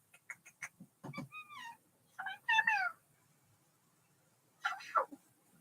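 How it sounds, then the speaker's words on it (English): A pet cat meows several times indoors, a few short calls followed by longer drawn-out meows with pauses between them, close and fairly quiet, with no talking. "Was your kitty?"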